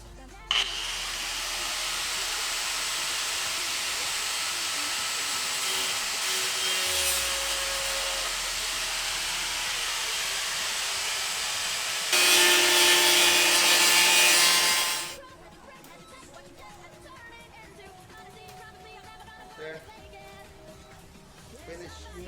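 A power tool cuts through a car fender panel, a loud steady whirring grind for about fifteen seconds that gets harsher near the end before stopping abruptly, leaving quiet room noise.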